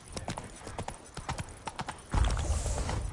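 Geralt's horse Roach in The Witcher 3 game clip-clops at a quick pace, a rapid run of hollow hoofbeats, and then a louder rumbling rush of movement takes over near the end.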